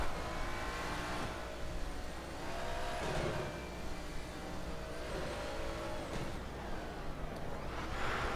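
A car in the ExoCross 2024 racing game roars along at a steady high drone, with tires spinning and engine revving under continuous loud road noise, close and sustained, no speech.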